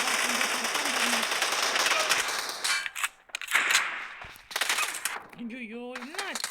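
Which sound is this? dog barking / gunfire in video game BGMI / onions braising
gunfire in video game BGMI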